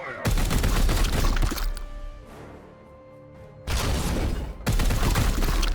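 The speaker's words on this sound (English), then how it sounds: "So go ahead and fire. Opening fire." Gunfire from Warhammer 40K Chaos Gate, a game, comes in loud, dense bursts: a long volley, a short pause, then two more heavy salvos close up.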